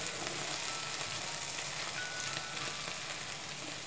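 Bitter gourd and onion bhaji frying in a pan, giving a steady, close sizzling hiss that stays even throughout without talk.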